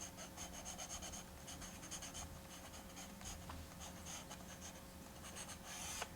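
Charcoal scrapes across paper in soft, steady rubbing strokes, close and quiet with short scratchy bursts and no talking.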